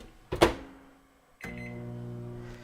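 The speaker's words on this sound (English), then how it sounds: "We're just gonna throw them in the microwave real quick." A microwave oven heating leftover pork chops: a sharp clunk of the door or buttons, then the steady hum of the oven running, close and alone.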